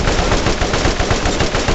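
Loud, rapid automatic gunfire from a gun in the video game Borderlands, a steady stream of closely spaced shots filling the whole short burst, with no voice over it.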